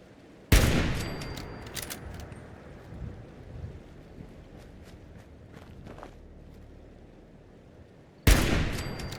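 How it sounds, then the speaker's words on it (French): Two loud sharp gunshots in Fallout 4, well spaced and near, with quiet ambient game noise and faint scattered shots in between. "Ils vont nous tirer dessus, je crois"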